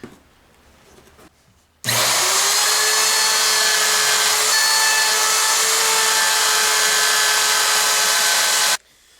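A router bit cuts steadily through guitar neck wood, a loud continuous high whine with a steady pitch that starts abruptly and holds for about seven seconds before stopping, with no talking.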